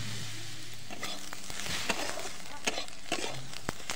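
Food frying in a pan for a home-cooked Bengali meal, a soft hiss of sizzling oil with a few sharp utensil clicks and scrapes, close by and fairly quiet.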